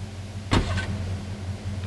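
Stolen car being taken in GTA 3, a sudden door or entry thud followed by mechanical whirring over a steady low engine hum, with a faint click near the end.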